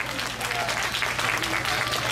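Audience applause at an outdoor festival stage show on a rainy day, a dense wash of clapping that sends off a performing troupe, with a faint low hum beneath and a voice briefly heard over it.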